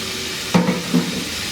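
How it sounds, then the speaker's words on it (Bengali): Chopped tomato with salt sizzles in a frying pan while being stirred, two short scraping stir strokes standing out over a soft steady frying hiss, close and moderately loud. "দিয়ে একটু টমেটোটা নাড়াচাড়া করে নিই, টমেটোটা নরম হয়ে যাওয়া পর্যন্ত।"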